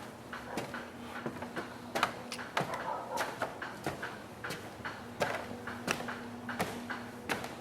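Footsteps climbing a staircase inside a shop building, a steady series of fairly close, distinct thumps with a faint steady hum behind them.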